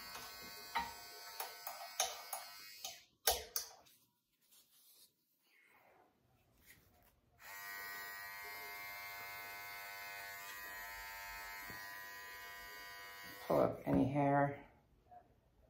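Electric clippers buzz steadily close up while shaving a terrier mix's fur just in front of the ear, with a few soft clicks and handling noises before the motor starts, then a long even hum.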